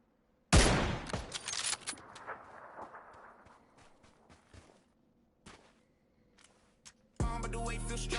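Loud rifle gunfire from an M24 bolt-action sniper rifle in the battle royale game PUBG on PS5: one sharp close shot with a long rolling echo, scattered fainter shots, then another heavy burst of fire near the end.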